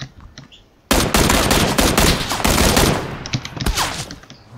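Rapid automatic gunfire in a squad shooter video game erupts suddenly, with a loud, dense two-second burst of fast shots that gives way to scattered, slightly quieter shots.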